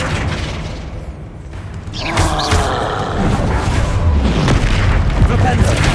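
A Flipendo spell is cast in Hogwarts Legacy: a rushing magical burst swells into a sustained roaring boom, loud and layered with game combat noise.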